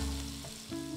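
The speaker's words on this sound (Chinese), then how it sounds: "烧一锅热油，我们给它淋上去" Hot oil poured over chopped scallion and grated ginger, a brief burst of bright crackling sizzle that settles into a softer hiss within a second, close and quiet, with no talking.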